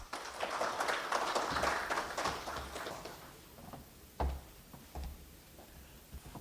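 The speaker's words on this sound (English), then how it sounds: "Can we welcome her with a huge round of applause?" Applause from an audience at an awards function, a dense patter of clapping for the first three seconds that thins out into a few scattered claps and faint knocks.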